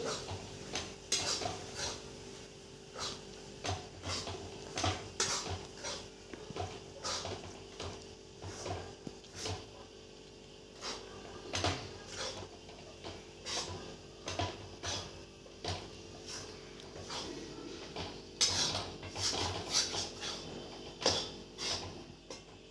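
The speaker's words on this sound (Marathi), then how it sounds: "बारीक गॅस करायचा आणि चांगलं लाल होईपर्यंत बेसन भाजायचं" Gram flour roasts in ghee in a pan over a low flame, heard as quiet, repeated clinks and scrapes of a spoon stirring against the pan at an irregular pace, with no talking.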